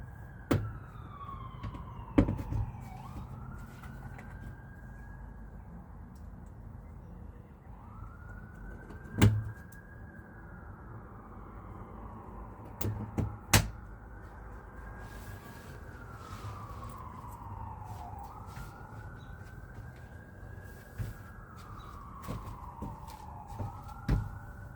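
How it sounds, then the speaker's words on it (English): An emergency vehicle siren wails in slow rising and falling sweeps as it passes at a moderate distance, with a few sharp knocks and clanks nearby in a quiet indoor setting. "I hear the siren."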